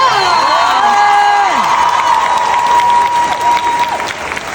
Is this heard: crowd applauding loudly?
yes